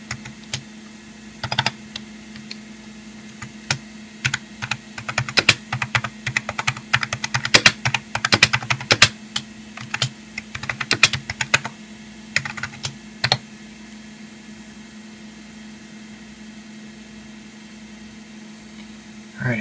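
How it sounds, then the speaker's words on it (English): Typing on a Macintosh SE keyboard, bursts of clacky keystrokes heard close, sparse at first, then dense and rapid in the middle, tapering off to a quiet hum with a steady background drone. "go ahead and type some more"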